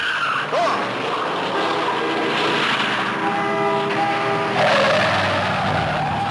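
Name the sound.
Chevy Impala car driving and skidding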